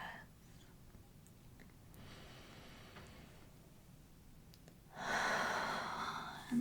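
Soft, close breathing during a gentle yoga stretch, with quiet inhales and exhales and a louder, airy exhale swelling near the end, intimate and hushed.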